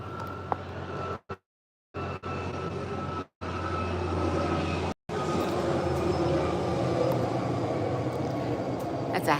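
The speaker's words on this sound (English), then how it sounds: "That's a helicopter. It's a helicopter." A helicopter passes overhead as a loud, continuous broadband roar and rumble, with a voice talking over it and a few brief dropouts in the sound.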